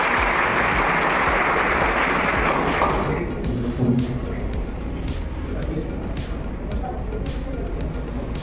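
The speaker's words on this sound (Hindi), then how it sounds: "जोरदार ताली से स्वागत कीजिए।" Loud, dense applause from a crowd welcoming a guest at an NCC company inspection event, a thick wash of clapping that thins after a few seconds into scattered individual claps.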